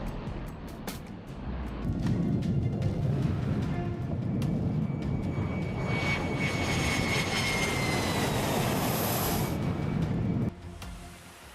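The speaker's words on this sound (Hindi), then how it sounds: "पांचवी पीढ़ी के 48 F-35A फाइटर जेट्स अब उत्तरी जापान में स्थायी रूप से तैनात किए जा रहे हैं।" F-35A fighter jets at Misawa Air Base in northern Japan, heard as a loud, sustained engine roar that builds, holds steady with a rising whine, then drops off abruptly near the end.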